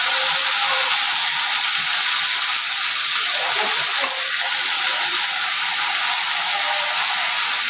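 Taro stolons (kochur loti) cooking down with spices in a pan for a prawn dish, a loud, dense, continuous sizzle and hiss close by, with no voices.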